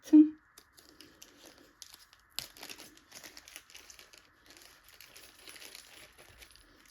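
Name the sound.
unboxing and opening a toolkit's packaging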